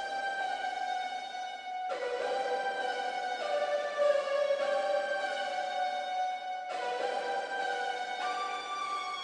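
A synthesizer lead patch from a phonk track plays sustained tonal notes with bright harmonics. The phrases change around 2 and 6.7 seconds, over a steady, moderately loud level with no voices.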